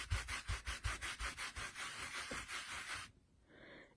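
A rubber stamp inked with StazOn is scrubbed back and forth on a scrubber pad in about a dozen quick, even rasping strokes, close and steady, then stops abruptly into near silence.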